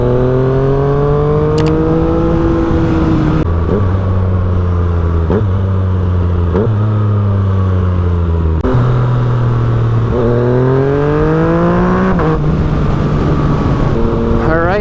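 An FZ-09 motorcycle engine rumbles loudly up close, revving repeatedly through rising and falling pitches with several gear shifts, steady and dominant throughout.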